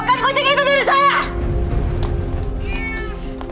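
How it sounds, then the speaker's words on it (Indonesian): A cat gives a loud, close, wavering meow while a person talks, followed by a hiss of background noise and a faint second cry. "Jauhkan kucing itu dari saya!"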